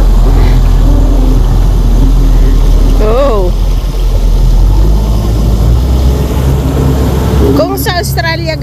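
Jet boat engine droning low and continuous on the water, steady and fairly loud throughout, with people's voices briefly over it and a brief high exclamation near the end.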